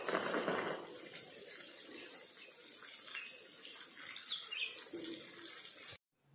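Water pours steadily onto plants and soil on a short trip toward Goa, a continuous gushing splash close by that stops abruptly near the end.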